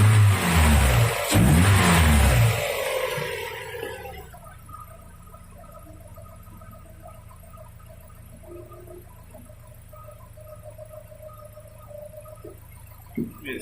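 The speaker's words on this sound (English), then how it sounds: "It sounds good and revving up." A car engine with a blown head gasket and off timing roars loudly in a short rev, then drops back to a low, steady idle hum that runs on alone.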